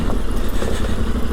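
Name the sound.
Yamaha Tenere 700 motorcycle engine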